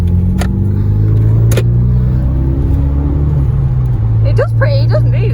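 A Renault Megane 225 drives along with a steady low engine drone from inside the cabin, a couple of sharp clicks early on, and a voice speaking briefly near the end.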